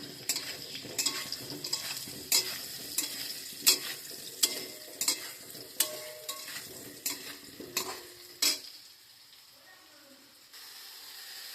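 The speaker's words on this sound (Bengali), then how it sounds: "প্রায় ভাজা হয়ে এসছে আমি একটু নুন দিয়ে দিচ্ছি আর একটু হলুদ দিয়ে দিচ্ছি এগুলো নুন দিয়ে ভেজে নেব" Potatoes frying in a pan with salt and turmeric, a soft sizzle under repeated spatula scrapes and clinks against the pan, close, with the stirring stopping near the end.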